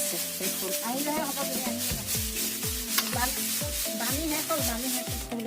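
Food sizzles loudly in hot oil while a utensil stirs and scrapes the pan in a steady, repeated rhythm.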